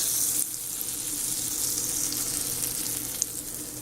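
A fried grilled cheese sandwich sizzles steadily in a pan at home, a continuous bright frying hiss at even loudness throughout with no talking.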